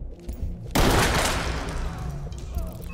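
A burst of gunfire in a video game shootout at a car dealership, a sudden loud blast followed by a dense rattling decay and reverberant tail, with a voice speaking beneath.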